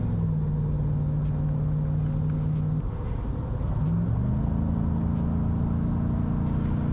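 A 2024 Chevy Silverado ZR2 Bison pickup truck cruising on a highway, its engine giving a deep steady rumble with a low droning tone that dips and climbs as it shifts, heard from inside the cab.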